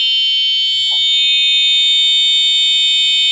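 A cattle anti-theft alarm sounds a loud, unbroken shrill electronic tone throughout, with a brief faint knock or thump in the background.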